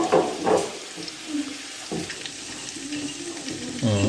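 Water is poured into a pan of cooking lentil dal with mixed vegetables, giving a close, soft splashing and sizzling that fades into a low simmer with light stirring.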